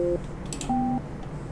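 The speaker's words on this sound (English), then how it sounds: "When finished, press the pound key." Two short electronic telephone keypad tones sound in quick succession on a phone line after the pound key is pressed, clear and close against a faint background hum.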